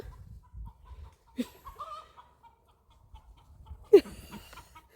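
Scattered chicken clucks and short squawks come from nearby, with a sharper burst of clucking near the end and quiet gaps in between.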